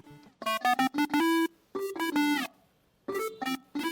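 Arturia MiniFreak synth lead run through a second distortion with high-end folding saturation, playing a bright, biting melodic phrase of short and held notes in three bursts, upfront and alone.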